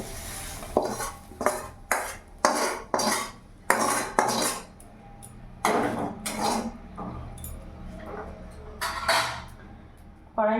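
A metal spatula scrapes fried soybean chunks out of a wok in a rhythmic series of about a dozen sharp, close scraping clanks, with short pauses between strokes.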